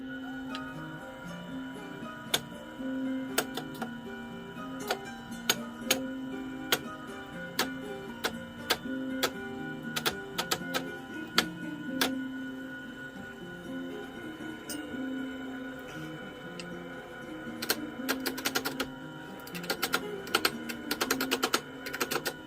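A Grizzly T32536 8 x 13 benchtop wood lathe makes its first cut: a steady motor hum with a string of sharp ticking and tapping contacts from the tool on the spinning wood, growing busier toward the end.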